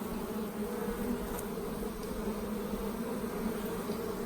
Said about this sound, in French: Il y a une abeille qui est dessus.